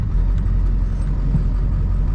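An old car engine runs at a steady low rumble, loud and close from inside the vehicle, with no speech over the continuous drone.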